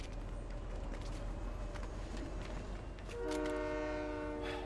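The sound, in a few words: train passing in the video game Fortnite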